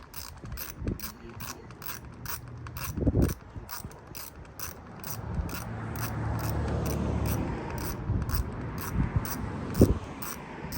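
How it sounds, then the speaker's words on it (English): Bolts being loosened with a ratchet on the engine of a Dodge Charger 3.6 V6 during spark plug replacement, steady rapid ratchet clicking close up, with occasional louder clanks of metal tools against the engine. "I'm gonna unloosen all these bolts"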